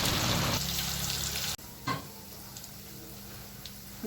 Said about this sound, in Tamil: இப்போ நம்ம இங்கே ஒன்றா உருண்டையாக்கி நம்ம இங்கே எண்ணெயில் சேர்த்துக்கலாம்